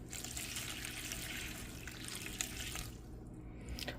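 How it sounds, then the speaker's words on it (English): Water pours steadily from a tap onto dried lentils in a cooking pot, a continuous close splashing gush that runs for several seconds and then thins toward the end, with no talking. "we're going to pour water till they're covered."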